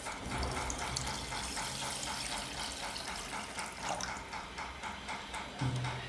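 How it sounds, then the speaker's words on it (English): Warm water pours steadily into a bowl of yeast and sugar for pizza dough, making a continuous close splashing rush, like a running tap, that lasts the whole stretch with a small clunk near the end. "then you add in your warm water"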